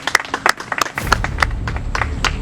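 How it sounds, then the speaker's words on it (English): A few contestants clap for themselves after the first leg of a challenge finale, sparse, separate claps close by, turning into looser scattered clapping over a low rumble of background noise. "Let's give yourselves a round of applause."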